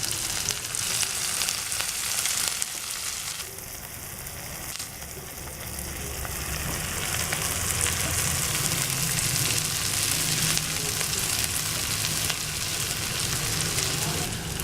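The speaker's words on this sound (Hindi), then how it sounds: "अब प्याज़ों को थोड़ा ऑयल में भूनने देते हैं।" Chopped onions fry in hot oil for beef tawa keema, a steady, dense sizzle that stays loud and even throughout with no voices.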